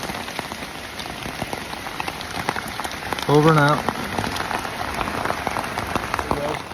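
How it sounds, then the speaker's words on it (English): Heavy thunderstorm downpour on an Appalachian Trail hike, drumming steadily and loudly on surfaces and foliage beside a large tree, with someone speaking briefly over the dense rain. "So we just got a major thunderstorm, thunder, lightning, and a major downpour."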